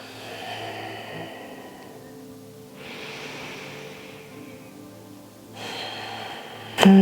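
Slow, audible breaths during a gentle yoga flow held in a hip-opening stretch, a soft inhale and exhale drifting in and out, close and quiet with no talking, ending in a brief bump.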